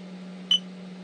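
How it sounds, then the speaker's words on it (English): A DJI Spark drone remote controller gives a single short, sharp pairing beep over a faint steady hum. "Until you hear that beep like that."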